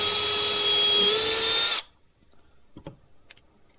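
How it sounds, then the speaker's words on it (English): A power drill whines steadily at close range for nearly two seconds, pre-drilling wood, then stops, leaving a few faint clicks and handling noises. "So I can pre-drill them while it's in place."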